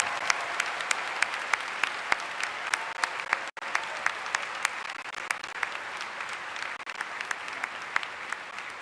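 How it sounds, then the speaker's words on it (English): Sustained applause from an audience at a university commencement ceremony, steady and moderately distant, with dense overlapping claps throughout and a brief dip partway, no speech over it. "can we give a big round of applause for Ms. Patton and all the amazing moms here with us this morning"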